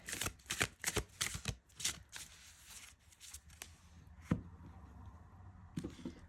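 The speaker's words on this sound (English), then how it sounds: "Should we shuffle that a bit more?" Crisp riffling and flapping of oracle cards being shuffled, in quick bursts of shuffles with brief pauses between them.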